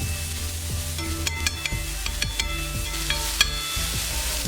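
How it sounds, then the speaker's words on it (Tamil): Onions sautéing in oil on a dosa tawa make a steady, close sizzle, with occasional stirring scrapes and light clinks across the sound. "ஸோ இப்போ நல்லா வந்து அந்த எண்ணெயிலே வதக்கிக்கலாம்."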